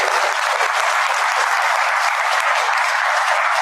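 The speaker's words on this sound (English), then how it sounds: "Let's give her a round of applause, please." A school audience gives the board chair a loud, dense round of applause, close and continuous, with many hands clapping together throughout and no speech over it.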